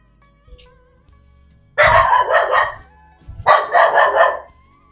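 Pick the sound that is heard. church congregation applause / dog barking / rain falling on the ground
dog barking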